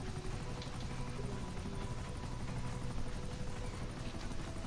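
A helicopter in GTA V Online drones steadily throughout with a dense, continuous rotor and engine roar, close and loud, with no talking over it.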